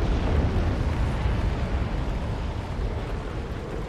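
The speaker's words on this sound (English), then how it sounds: "she walked into an explosion of gloom" A gloom explosion in the video game Zelda: Tears of the Kingdom, a dense, loud, rumbling burst that roars steadily and then fades slightly over a few seconds.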